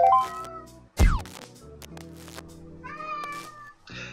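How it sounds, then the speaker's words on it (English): A cat meows once in the Youtubers Life video game: a loud, sharp, falling cry that rises out of steady background game music and then fades. "And if you hear a cat meowing,"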